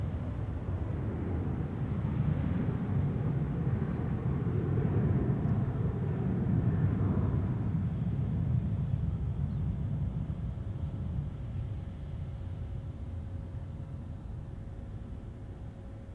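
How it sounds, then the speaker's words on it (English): A Southwest Airlines Boeing 737-800 rolls down the runway on takeoff, a broad steady jet roar swelling over several seconds and then easing off as it recedes into the distance. "Southwest Airlines rolling down the runway"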